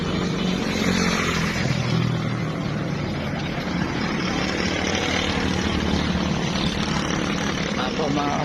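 A group of motorcycles roars past close by, their engines loud and continuous with no break.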